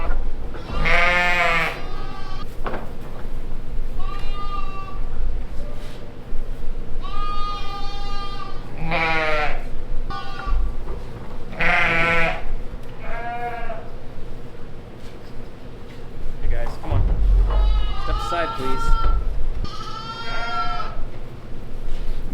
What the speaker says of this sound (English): But I've got some unhappy sheep over here.